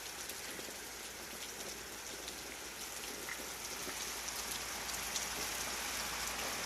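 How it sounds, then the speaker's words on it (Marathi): Heavy rain pours steadily outside a village house beside a guava tree and soybean fields, a dense, even hiss of drops hitting surfaces that continues unbroken with no voices. "बाहेर किती जोराचा पाऊस चालू आहे."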